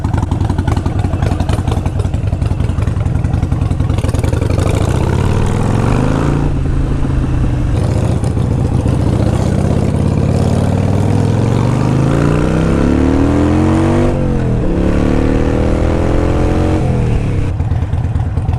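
A 2018 Harley-Davidson Iron 883 motorcycle engine runs steadily and loud throughout, its pitch rising and falling several times as the throttle is revved, with no voices.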